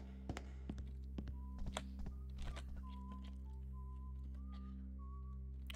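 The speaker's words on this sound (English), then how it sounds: "Someone's whistling" Faint whistling in a Thief 2 stealth game, a thin tune of short, separate notes behind close keyboard typing and key taps.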